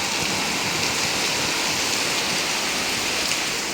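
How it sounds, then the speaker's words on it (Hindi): Heavy, steady rain pours down in a continuous dense hiss, loud and close, with a low rumble underneath and no voices. "बहुत ज़बरदस्त बारिश है।"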